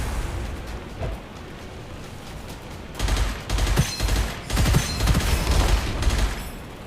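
A grenade goes off in the shooter game Gunfire Reborn: a quieter lead-in, then from about the midpoint a run of loud, booming blasts and crackling bursts that rumble on to the end.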